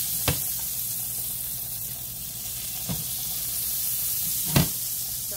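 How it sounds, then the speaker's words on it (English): Steak sizzles steadily in a pan over high heat, a continuous hiss punctuated by a few sharp clinks or taps, with no talking. "we're just simply going to put them on this here. On this pan, rather. Turn that heat up high."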